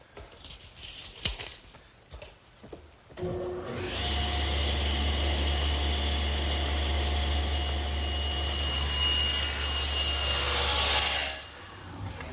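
A table saw with a plywood panel cutter squares up a wooden chest top: the motor spins up, then a sustained loud whine and rasp of blade through wood rises and swells midway before winding down.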